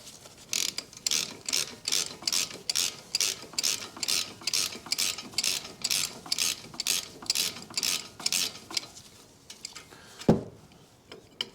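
Ratchet wrench clicking steadily in quick bursts while undoing 13 mm brake caliper bolts on a 2013 Mini Cooper D 1.6 diesel, close and clear, ending with a sharp clunk.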